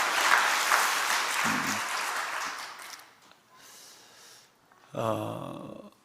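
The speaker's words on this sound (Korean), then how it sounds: "우리 한번 축복의 박수를 한번 하겠습니다" Church congregation clapping in blessing, a dense burst of applause that fades after a few seconds, followed by brief quieter sounds.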